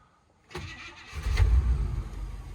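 A 1957 Chevy Bel Air engine, long unused and fitted with a two-barrel carburetor, cranks briefly and then catches, running rough with a loud, uneven low rumble close by.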